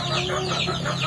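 A flock of about a hundred young chickens, aged twenty days to a month, clucks and chirps constantly and up close, a dense overlapping chatter with a steady low hum underneath.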